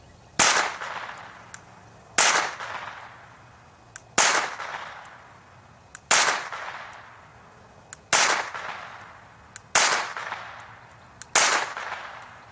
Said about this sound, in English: This is a 22 Minx that shoots short rounds, and we're going to fire it right here